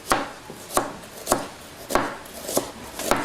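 A knife chops through onions on a board, made while cooking Réunion rougail saucisse, giving six sharp, evenly spaced cuts about every half second, close and clear with no talking.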